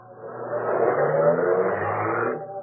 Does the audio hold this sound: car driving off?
yes